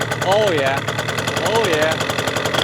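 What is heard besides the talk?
Yamaha Aerox two-stroke scooter engine running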